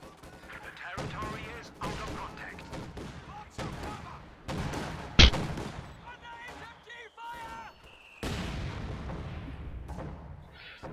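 Machine gun fire and battle noise in the Company of Heroes 2 video game, bursts of gunfire and one sharp impact under continuous commentary from a man.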